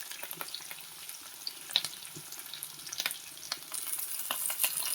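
Onions and green chilies frying in a pan while being stirred, a soft sizzle with light scraping clicks and a watery hiss that grows slightly louder toward the end.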